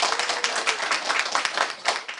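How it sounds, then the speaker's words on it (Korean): A short burst of clapping from students at a live college-admissions lecture. The sharp, quick claps are moderately close and last about two seconds. "박수."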